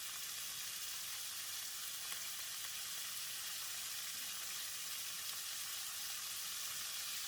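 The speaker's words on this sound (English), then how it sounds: "Stir for about 30 seconds or until the beans and seasoning are well combined." French beans stir-frying in a wok with taucu, soy sauce, sesame oil, sugar and crispy fried garlic give a steady, continuous sizzle with faint stirring scrapes, no talk.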